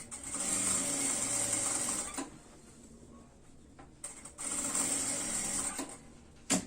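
A sewing machine stitches a baby stroller bag in quick continuous runs, pausing between bursts for short backstitch passes, with faint clicks and handling noises in the gaps.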